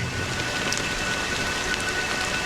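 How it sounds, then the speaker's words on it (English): Rain falls steadily in a Honkai: Star Rail cutscene, a dense, even patter of drops on surfaces that runs unbroken with no voices. "But it's still raining."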